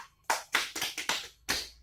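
A small class claps for a student in a music lesson: six sharp, close claps in an uneven rhythm, loud and isolated against a quiet room.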